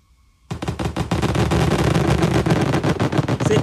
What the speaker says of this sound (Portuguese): Olha o fogos aí, ó.